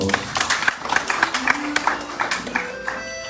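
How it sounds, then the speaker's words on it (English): An audience at a temple Ramayan yagya session claps for singers and musicians, a short spell of moderate clapping with a held instrumental tone lingering underneath. "Please give them a big round of applause."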